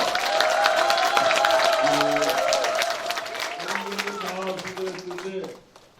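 Party members at a Democratic Party members' education event in Incheon Seo-gu applaud and cheer for their National Assembly member. The dense, steady clapping and crowd noise from a hall full of people fades out at the end, with a voice speaking over it.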